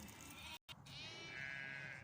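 Sheep and lambs bleat close by, a sustained wavering cry after a brief gap, with a high-pitched lamb call rising near the end.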